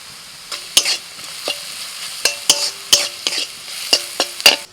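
Vegetables being fried and stirred in a pan with ground cumin, black pepper and salt, heard as a series of sharp scraping and clinking stir strokes over a steady low sizzle, close and fairly loud, with no talking.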